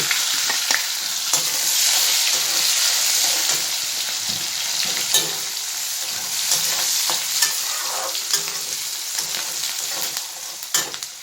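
Chopped onion frying in a pan with whole cardamom, a loud close sizzle with scraping stirs and small pops spread across it, with no voices over it.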